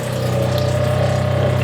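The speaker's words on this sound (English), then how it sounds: "So we're testing now the bilge pump." A boat's bilge pump runs steadily, drawing water out of the hull with a constant low mechanical hum and gushing flow, close and loud.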